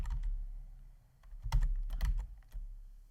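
Computer keyboard keys, Ctrl and arrow keys, pressed in a few quick clicks and clacks during spreadsheet navigation, close and fairly quiet with short pauses between presses.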